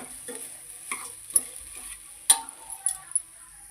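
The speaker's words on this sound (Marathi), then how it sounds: "अशा प्रकारे हे छानपैकी असं परतून घ्यायचं तेलामध्ये." Cauliflower florets sautéing in oil for pulao, a quiet sizzle with scattered spatula scrapes and taps against the pan.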